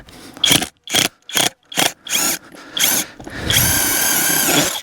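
An impact drill drives tent screws into the ground in a series of short loud bursts, about six quick runs, then one long sustained grinding run to finish.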